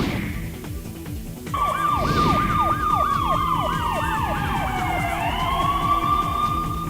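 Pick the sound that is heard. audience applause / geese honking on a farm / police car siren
police car siren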